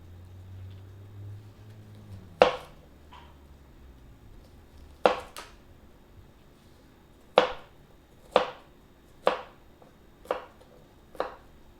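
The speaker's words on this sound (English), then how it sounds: "Eventually, I will be done chopping the onions" Onions being chopped with a knife on a cutting board in a home kitchen, a series of about eight sharp, crisp chops spaced irregularly a second or two apart, close and clear against a quiet background.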